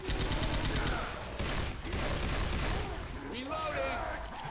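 Dense, loud gunfire from a Left 4 Dead 2 zombie shooter session, rapid overlapping shots and bursts filling the whole stretch, with players talking over the action.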